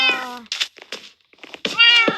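A cat meows several times in a Minecraft survival game, short tonal cries separated by brief pauses, close and clear with no talking over them.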